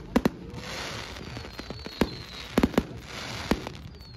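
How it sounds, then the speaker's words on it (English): Fireworks bursting at a crowded public display, several sharp cracks and pops scattered irregularly over a low rumbling background, fairly distant and moderately loud, with no voices. "I'll put a little video up of some of the fireworks."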